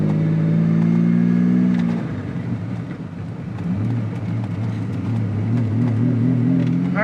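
A Lamborghini Diablo's engine revs up loudly from inside the car, climbing in pitch before easing off into a throaty rumble, then building again with a strong, close-up growl and no talking.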